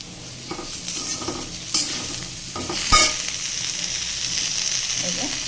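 Water hitting a hot pan of flat beans and potatoes, a bright steady hiss and sizzle under scattered spoon scrapes and clinks, with one sharp metallic knock near the middle.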